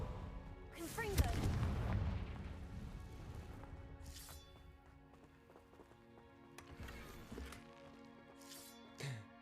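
Fire-spell blasts in Hogwarts Legacy burst out as a loud booming explosion near the start, followed by rumbling debris and smaller crashes, with a few softer impacts later and a musical score underneath.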